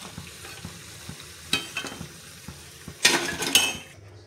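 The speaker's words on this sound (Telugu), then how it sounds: "ఇలా బాగా ఎర్రగా కాల్చుకోవాలి" Bajji fritters fry in hot oil until deep red, giving a soft continuous sizzle under a few sharp clinks and scrapes of a metal ladle turning them.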